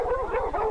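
An American bulldog in a yard gives a rapid run of rough, pulsing barks and whining yelps, heard close and fairly loud with no voices over it.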